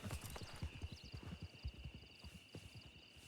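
Steady clip-clop of horse hooves at a walking pace in a video game, fairly close, with a faint high tone running underneath.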